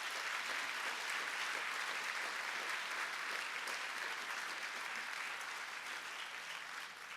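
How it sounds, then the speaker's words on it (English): Steady, dense audience applause fills a conference hall, loud and sustained throughout with no break, tapering only slightly near the end. "Let's give them all a round of applause."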